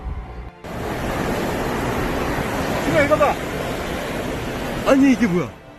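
A large wave surges and crashes in a steady roaring wash of water, with brief voices rising over it near the end.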